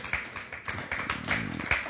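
A church congregation clapping in praise of the Lord, a quick run of sharp claps in uneven rhythm over a couple of seconds, fairly close and loud.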